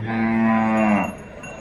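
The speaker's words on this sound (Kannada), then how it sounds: "ಇದೊಂದು ಜವಾರಿ ಹಸು ಐತೆ ನೋಡ್ರಿ" A native Jawari cow lets out one long, deep moo close by at the Kalghatgi cattle market, fading into quiet outdoor background.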